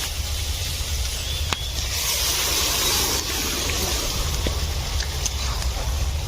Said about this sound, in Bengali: আর ডালটা ঢেলে দেবো।